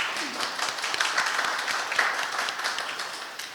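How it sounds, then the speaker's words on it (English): An audience claps a thank-you for the Johnson County Ambulance Service at a HeartSafe Community designation event. The applause is sustained and even, moderately loud, and fills the whole short stretch. "please join me in giving them a round of applause."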